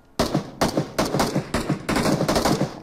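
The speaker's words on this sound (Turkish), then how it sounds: "Şuradan silah sesi geliyor." Rapid bursts of gunfire in the mobile battle royale game PUBG Mobile, about six loud repeated volleys in quick succession, close and sharp, with no talking over them.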